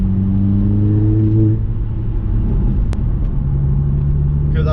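Car engine with a BorgWarner K04 turbo revs under a light throttle blip, a loud close rumble that rises and then settles to a steady lower drone.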